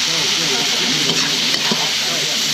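Garlic squid stir-frying in a hot pan with oyster sauce, a continuous bright sizzle and hiss with faint scraping from stirring, close and steady.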